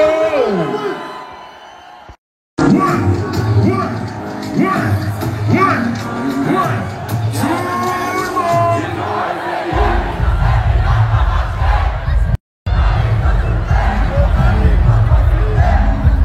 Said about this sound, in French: Du bruit pour les deux équipes, un clash de malade. Applaudissez très très fort, s'il vous plaît, pour les deux.